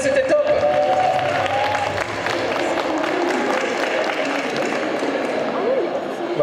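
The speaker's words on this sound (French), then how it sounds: "on peut l'applaudir" An audience at a cosplay armour-making conference at a gaming festival in Nancy claps and cheers after a talk, with a voice speaking over the dense, busy applause.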